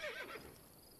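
A horse neighs in Assassin's Creed Brotherhood, a single bright whinny that falls in pitch and fades within about a second, heard clearly and alone against a quiet game background.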